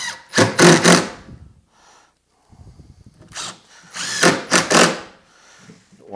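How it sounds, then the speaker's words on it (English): A power drill driving #6 1-5/8 inch wood screws into a cabinet during assembly, two loud whirring bursts separated by a short pause with faint handling noise between. "I'll screw them in with a number 6 1 5/8 wood screw"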